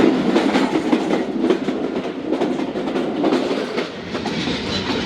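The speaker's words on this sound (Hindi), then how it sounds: "सामने से अप लाइन से यूसुफ वाला कोल ट्रेन भी जा रही है।" A coal train with its locomotive rolls past on a railway line, a loud, continuous rumble with rhythmic clickety-clack from the wheels over the rails, filling the whole stretch without speech.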